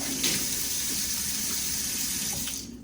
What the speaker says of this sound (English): Just rinse them off well.